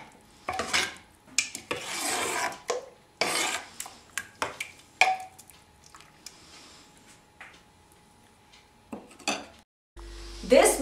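Mustard greens mixture for sarson ka saag is stirred in a pot, with uneven bursts of rasping, scraping strokes against the pot separated by short pauses, fairly close and alone.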